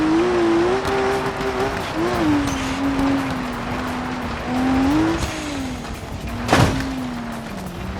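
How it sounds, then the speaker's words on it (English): A car driven in the BeamNG video game, with a steady engine drone rising and falling as it accelerates and shifts, one brief sharp spike partway through, and someone talking faintly over it. "Get to take a first run in the car here."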